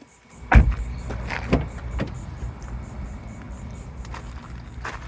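A motor whirs on a 2011 Acura RDX as its sunroof moves, after a couple of clunks at the start. A faint electric hum then continues steadily under the quiet cabin.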